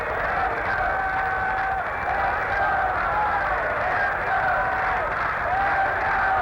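A lively 1978 baseball stadium crowd at a Yankees game with pitcher Ron Guidry on the mound gives off a steady, dense roar and murmur, with no single voice standing out.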